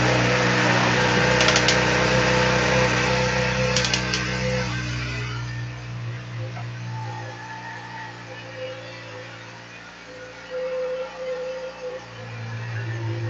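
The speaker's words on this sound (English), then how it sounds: "let's go ahead and fire this one up while we're at it" A 2006-2007 Kawasaki KFX400 ATV engine running in a shed, a steady mechanical drone that quietens partway through and keeps idling at lower level with slight surges, a voice talking over it.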